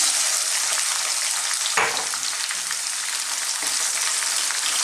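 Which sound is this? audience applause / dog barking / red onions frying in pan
red onions frying in pan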